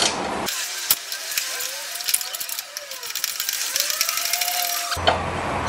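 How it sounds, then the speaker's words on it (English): Ratchet clicking on a bolt during diagnosis of a car's front-end noise, with a steady run of close, sharp pawl clicks and some metallic clatter, and someone speaking over it. "we'll get our ratchet on here"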